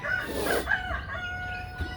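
A rooster crows loudly nearby in a backyard garden, one drawn-out call, with faint chicken clucks around it.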